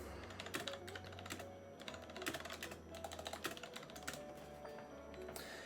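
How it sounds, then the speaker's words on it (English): Rapid bursts of keystrokes on a computer keyboard, quiet and close, with uneven clusters of clicks and brief pauses between them, over a low background hum. "And I was just typing out something strategy-wise."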